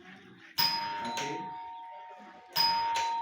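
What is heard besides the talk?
electric doorbell ringing when push button pressed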